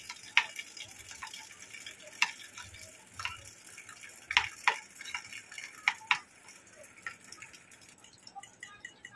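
Spices being beaten into yogurt in a bowl, with irregular light clicks and taps of a spoon or whisk against the bowl, close and fairly quiet, coming in scattered bursts.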